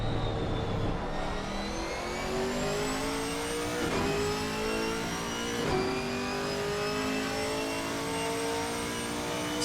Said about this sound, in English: We're on board with the Chevrolet following down towards turn 1.